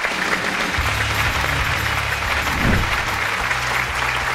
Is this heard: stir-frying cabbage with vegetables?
no